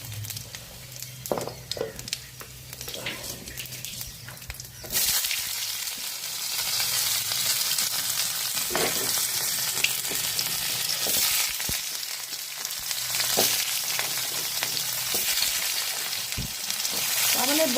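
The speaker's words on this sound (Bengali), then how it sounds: "এই যে জিরা সম্বার দিয়ে দিলাম। একটু গরম মশলা সম্বার দিয়ে দিলাম।" Cumin seeds and garam masala tempering in hot oil in a home kitchen pan, starting with a few faint pops and then breaking into a loud, steady, continuous sizzle that lasts to the end.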